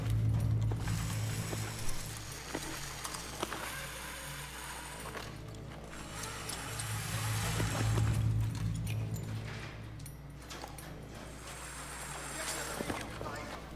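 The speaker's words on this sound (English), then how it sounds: "I'm gonna repel and drop on their head." Rappelling down a rope in the video game Battlefield 3 brings a ratcheting, clicking mechanical whir from the descent gear, with rumbling game ambience and a voice speaking now and then beneath it.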